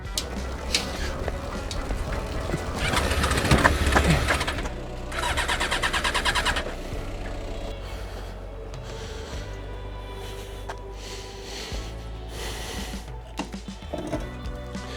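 A Yamaha XJ 600 motorcycle engine cranks repeatedly without catching, apparently starved of fuel, with several whirring starter bursts separated by pauses, fairly close and moderately loud.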